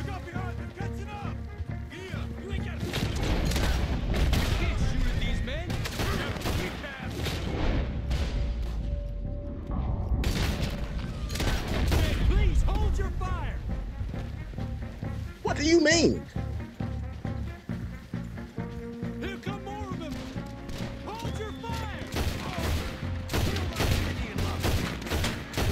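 Rapid bursts of gunfire crackle repeatedly over nearly half a minute in Red Dead Redemption 2, mixed with people talking and game sounds.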